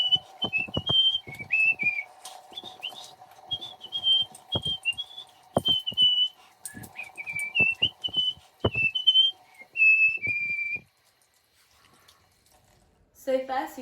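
Someone whistles a bright, wandering tune while washing their hands at a running tap in a kitchen, with water splashing and dripping beneath the melody; the whistling stops and only a faint trickle remains near the end.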